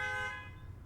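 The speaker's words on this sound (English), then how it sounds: "Damn, they honking in the hood outside, boys." Car horns honk outside in a neighborhood, a steady sustained horn tone ringing through the clip and fading slightly toward the end, heard alone without talk.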